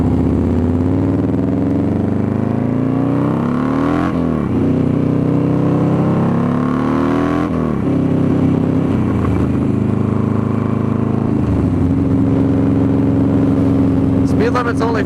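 A 2003 Buell XB9S motorcycle accelerates steadily while being ridden, its engine note rising and falling through several gear changes, loud and close throughout.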